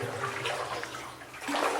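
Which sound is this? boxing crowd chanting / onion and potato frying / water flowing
water flowing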